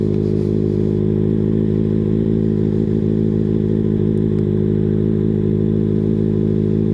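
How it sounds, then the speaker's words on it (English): A motorcycle in first gear putters along at low, steady revs, a constant loud thrumming rumble with a slight rattle, as if riding slowly nearby. "while you're in first gear, just work on slowly doing laps"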